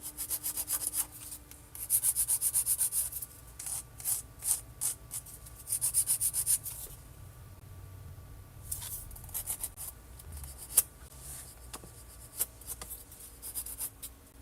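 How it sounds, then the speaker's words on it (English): Repeated scratchy rasping of a nail file on gel extension nails in short rhythmic strokes, close and fairly soft, with brief pauses between bursts. "Keep your file straight 90 degree."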